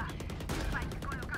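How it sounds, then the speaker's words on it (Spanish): Gunfire in the tactical shooter game Valorant during a decisive round, a dense run of rapid shots packed closely together, loud and continuous across the moment with some voice mixed in underneath. "oigo tiros, tiene que estar por ahí"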